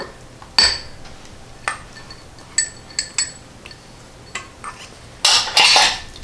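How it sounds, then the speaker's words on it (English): Carrots and well-drained crushed pineapple stirred into carrot cake batter in a bowl, with a spoon clinking against the bowl in a few sharp, separate knocks and a longer scraping rattle near the end; no talking. "And just give that a stir."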